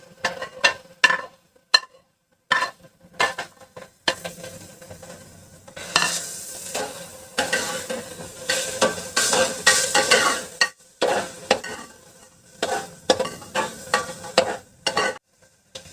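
Onions frying in a pan and stirred until reddish-brown, irregular bursts of scraping and clattering from a spatula over a crackling sizzle, close, with short pauses between the busy stretches.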